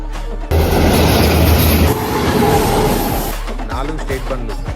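A high-speed train races through Kottapally station in Telangana without stopping, a loud, dense rumble and rush that starts suddenly, holds steady, then thins as it passes.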